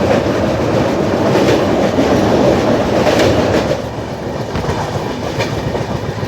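The 14618 Jansewa Express, running at about 70 km/h, rolls over the Ganga canal near Roorkee with a loud, steady wheel rumble and rhythmic rail clatter that eases slightly partway through.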